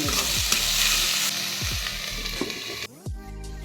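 Potatoes, eggs and cauliflower sizzle steadily in a pan for an upma recipe, with repeated scraping stirs of a spatula cutting through the constant close, loud frying hiss.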